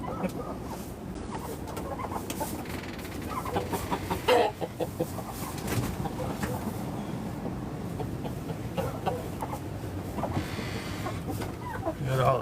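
Chickens cluck and murmur in a coop on a windy day, with scattered close clucks and bird calls over a rough background rumble of wind and movement, and occasional louder knocks.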